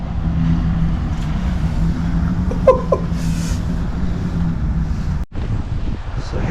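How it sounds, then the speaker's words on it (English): Strong wind from a Canadian winter storm in about minus 11 degree cold roars steadily and loudly, buffeting the microphone with a constant low rumble for the whole stretch and one brief gap near the end. "Listen to the wind."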